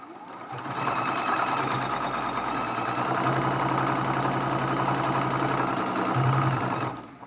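A sewing machine runs continuously, chain piecing quilt block seams from charm packs: a steady, fast mechanical whir that starts after a brief pause, holds for several seconds, then stops abruptly.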